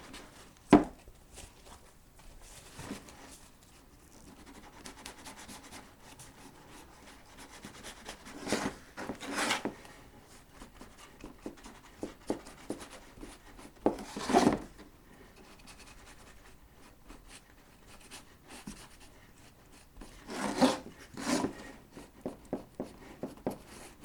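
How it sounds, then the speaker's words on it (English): Soft, intermittent rubbing and scratching strokes as paint is worked into a painted cupcake, faint and close, with a few louder bursts spread out and quiet pauses between. "I'm going to go in and rub that in."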